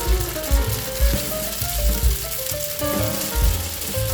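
Rice vermicelli fries in butter in a pan with a constant crackling sizzle, punctuated by rhythmic low thumps, close and fairly loud, with no talking.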